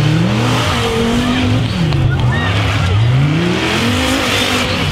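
A monster race car at a Trollhättan race event pulling away hard, its engine revving in rising and falling sweeps with tyre squeal, loud and continuous beneath crowd and commentary noise.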